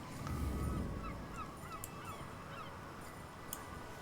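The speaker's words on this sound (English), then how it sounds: "that is a weird looking bird over there" A bird calls in the video game I Am Dead, a few short honking, goose-like cries rising and falling over a soft ambient game backdrop.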